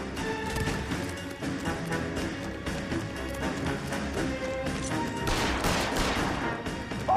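Gunfire in the L.A. Noire video game, a dense stretch of shots and crashes packed together at steady loudness, with a louder burst of impacts near the end and game music running underneath.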